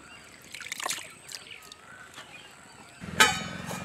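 Soft trickles and sloshes of water as tender taro (poi) leaves are rinsed in a basin, with a louder splash near the end and faint background sounds.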